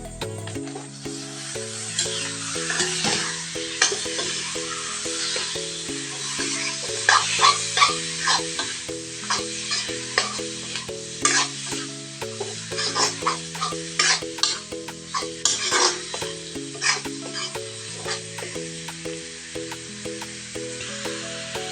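Meat sizzles and crackles in hot oil while being stirred, with steady scraping and clinks over a continuous loud fry, and music playing underneath.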